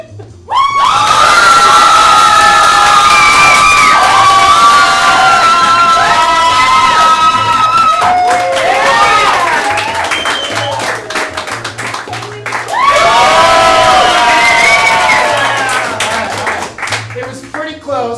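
A loud theater audience at an improv comedy show cheers, screams and whoops continuously, with children's high shouts and clapping. The noise dips briefly midway, then swells again.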